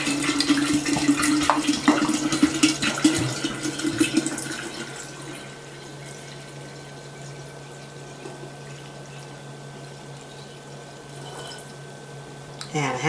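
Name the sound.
pouring half a gallon of water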